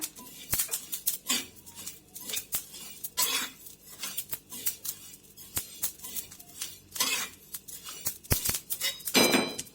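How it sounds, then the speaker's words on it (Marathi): Spices for Maharashtrian yesur masala are dry-roasted in a pan, with a utensil stirring and scraping the metal in rapid, irregular clinks and rattles, close and fairly loud, with no talking. "तुम्हाला आवाज येत असेल याचा भाजण्याचा."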